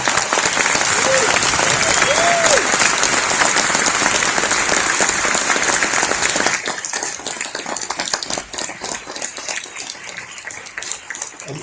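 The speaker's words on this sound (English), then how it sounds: "You may applaud their work having just seen it." A theatre audience applauds the film producer at a screening talk, loud dense clapping that thins and becomes more scattered and individual in the last few seconds, with a voice faintly heard early on.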